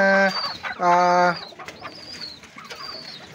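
Pigeons coo close by, two deep throaty calls followed by softer bird chirps in the background.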